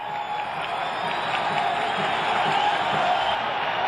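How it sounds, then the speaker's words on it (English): A baseball crowd at a Cleveland stadium in 1981, applauding and cheering in the 7th inning of a perfect game, a dense, distant wash of clapping with a few whoops that continues steadily. "And these fans start applauding again."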